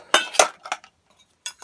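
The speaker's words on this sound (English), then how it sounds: "So you got your pots, you got your pans, you got your frying pan" Metal camping pots, pans and a lid from a bug-out kit clink together in a few sharp, close knocks with short gaps between them.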